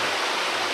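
Clear water of a mountain valley stream rushes steadily in a dense, continuous broadband wash, close and fairly loud, with no voices over it.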